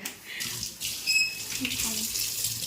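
Hot water runs from a kitchen tap in a Himachal home, fed through a pipe heated by a stove. The stream is steady, close and fairly soft, with no talk over it.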